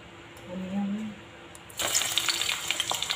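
Onions frying in a pan for a chicken and white rice dish, a dense crackling sizzle that starts abruptly partway through and continues steadily close up, preceded by a few faint tonal kitchen sounds.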